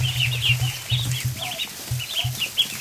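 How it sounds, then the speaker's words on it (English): Little ducklings peep in quick high repeated calls, close and fairly loud, with low rumbling movement and clucking-like sounds underneath and no talk. "Oh, little ducks."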